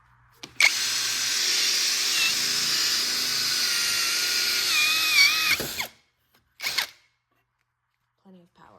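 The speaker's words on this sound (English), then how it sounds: "First up, Mellif with the 1/2 inch" Mellif cordless drill with a 1/2 inch bit driving screws at speed 2: a loud, steady high whine runs for about five seconds with a slight pitch wobble, then stops abruptly, followed by a short second burst and faint clicks.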